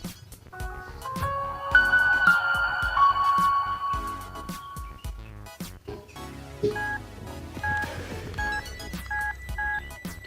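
A Kall K3310 budget mobile phone switching on plays a clear electronic startup melody of sustained tones, followed by a run of short, evenly spaced beeps, loud and close with no talking.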